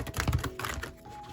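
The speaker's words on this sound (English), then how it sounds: "Now overhand, it shuffles pretty good." Tarot cards from a new deck are shuffled overhand, a quick run of soft, close riffling taps and light slaps that thin out toward the end.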